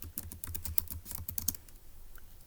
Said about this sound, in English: let's go ahead and type up in our notes in B